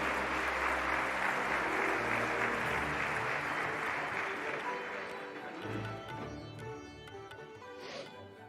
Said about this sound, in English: Please, let's give a round of applause as I kindly request Congressman Cartwright to address the Assembly.